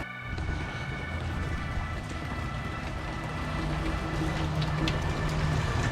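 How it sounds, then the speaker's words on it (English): Heavy rain pours down in a steady, dense hiss that swells slightly louder toward the end, in Florida. "Pouring down rain."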